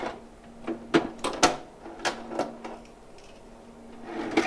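A drawer is pulled open to retrieve a HighVolt current probe in an electrical testing workspace, producing a string of sharp clicks and clunks over about two seconds, fairly close and moderately loud.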